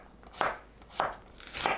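A knife slices a quartered zucchini into thick rounds on a cutting board in a home kitchen while preparing doenjang stew, giving three crisp, separate chopping taps, close and clear, with no talking.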